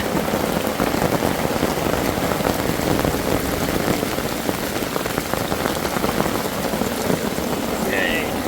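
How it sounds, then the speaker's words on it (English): Heavy autumn rain pours down steadily at a waterfall, a dense, constant hiss of drops drumming on a surface, loud and close throughout. "rain's just pouring down"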